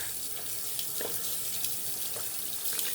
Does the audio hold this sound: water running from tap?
yes